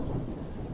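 Heavy rain and rolling thunder from a cartoon storm form a dense, low rumble with a steady wash of rainfall, loud and continuous across a brief moment.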